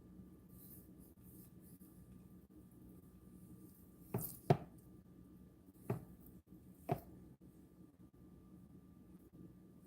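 Knife scoring the fat cap of a rib roast in a diamond pattern: four short, quiet scraping cuts in quick succession over a soft, near-silent background.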